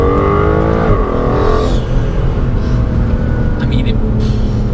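An Aston Martin DBS Superleggera pulls hard in second gear, its loud engine note rising in pitch and then settling into a strong steady drone from inside the car, with voices heard over it.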